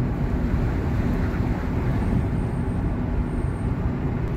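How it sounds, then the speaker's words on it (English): Strong wind gusts near Lake Mead roar steadily and loudly as heavy low buffeting across the microphone, with no voices heard. "I feel wind gusts coming."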